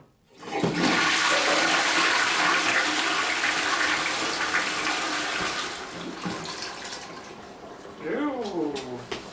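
A newly hooked-up toilet in a mobile home renovation flushes with a loud rush of water that swells quickly, churns steadily, then tapers into refilling gurgles near the end.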